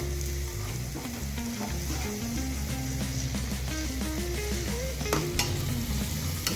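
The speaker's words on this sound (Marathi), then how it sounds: "टोमॅटो मऊ होईपर्यंत आपल्याला हे परतून घ्यायचं" Onion and tomato sautéing in a pan for Maharashtrian matar rice, a steady moderate sizzle with occasional scrapes of stirring and a tonal hum in the background.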